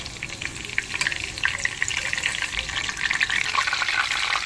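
Stuffed bitter gourds fry in hot oil, giving a continuous crackling sizzle with dense, bubbling pops at a steady, moderate level and no talking.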